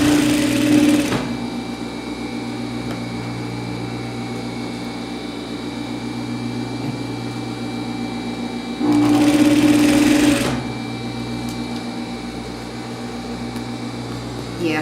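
A sewing machine runs a seam on a double-face coat in two short bursts of fast, buzzing stitching, one at the start and one near the end, with a steady background hum between.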